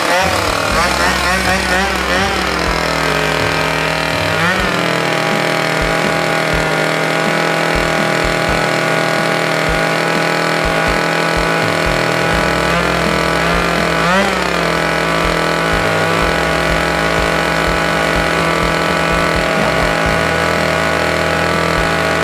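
A Husqvarna 336 chainsaw engine runs during a low-speed idle adjustment: a loud, steady buzzing drone close by that holds for the whole stretch, with a few brief shifts in pitch and possible voices in the background.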